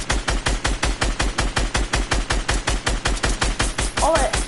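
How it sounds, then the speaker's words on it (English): A video game weapon fires in one sustained, evenly paced stream of shots as all its ammo is emptied at once. Each shot lands with a thumping low punch, and a brief voice cuts in near the end. "We're gonna shoot all our ammo at once."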